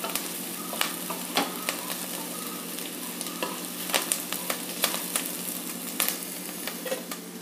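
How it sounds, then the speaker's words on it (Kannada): Fenugreek seeds and onion frying in a pan, with a steady close sizzle broken by frequent sharp crackles and pops from the seeds, plus occasional stirring scrapes, no voices. "ಮೆಂತ್ಯ ಕಾಳಂತೂ ಸಿಡಿಯೋ ಥರ ಸೌಂಡ್ ಬರೋಕ್ಕೆ ಶುರುವಾಗುತ್ತೆ. ಈರುಳ್ಳಿ ಜೊತೆ ಜೊತೆಗೆ ಮೆಂತ್ಯ ಕಾಳು ಫ್ರೈ ಆಗುತ್ತೆ."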